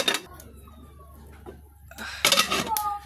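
A lid goes back onto a cooking pot with a metallic clank and rattle, two brief clattering bursts over a kitchen background, with a voice speaking briefly at the start.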